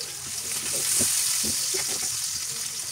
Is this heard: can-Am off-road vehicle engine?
no